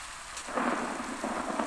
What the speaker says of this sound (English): I think it's just raining now.